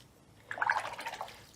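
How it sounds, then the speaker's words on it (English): A watercolour paintbrush swished in a water jar during a pebble painting, a brief close burst of gurgling, splashy rinsing that lasts under a second before fading. "Rinse the brush off."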